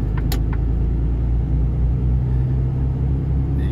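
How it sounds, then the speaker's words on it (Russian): Steady low road rumble from inside a car driving along a road in the Kansk area of Russia, loud and constant throughout with a couple of faint clicks early on. "Сейчас поедем дорогой."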